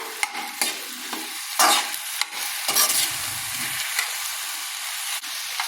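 Whole okra (ladies finger) sautéing in a hot pan for vendakai vathal, a loud steady sizzle broken by repeated stirring scrapes and clatters, with no voices.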